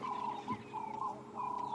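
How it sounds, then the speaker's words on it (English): Ring-necked dove calling on a morning safari in the African bush, soft repeated cooing phrases heard at a distance over quiet ambience. "Ringneck dove"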